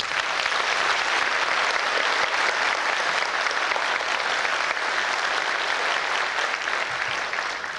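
Sustained, dense applause from a concert audience for a barbershop chorus at their 1991 show, steady and full throughout with no voices on top, easing very slightly at the end.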